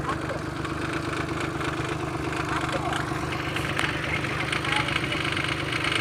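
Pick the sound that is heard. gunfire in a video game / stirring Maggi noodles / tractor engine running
tractor engine running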